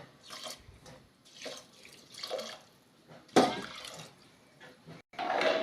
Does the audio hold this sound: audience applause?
no